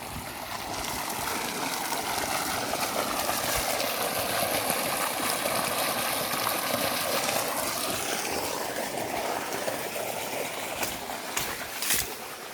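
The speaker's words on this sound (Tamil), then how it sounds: "தண்ணி ஊற்றிட்டு இருக்குது பாருங்கள்" Steady rushing water pours continuously into a tank on an areca and coconut farm, a broad constant splashing with a faint engine-like hum underneath and a few brief knocks near the end.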